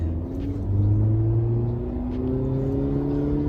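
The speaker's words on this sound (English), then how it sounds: "So I'm in neutral and now I'm going into first. So I'm gonna start driving." A manual car pulling away in first gear, its engine a low steady rumble whose pitch rises slowly as it gains speed, heard from inside the cabin without talking.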